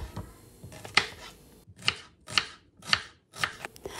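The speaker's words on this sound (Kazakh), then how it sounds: "Алдымен бірінші жуамызды уақтап турап аламыз." An onion is finely chopped with a knife for a Kazakh edible-bowl supper dish: a series of sharp, close blade strikes on a board in a loose, steady rhythm, with no voices.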